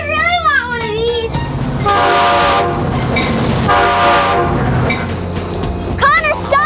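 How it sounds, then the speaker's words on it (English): A train rumbles and clatters steadily with horn-like tonal blasts sounding twice, while children's excited voices call out at the beginning and the end. "Stop that train!"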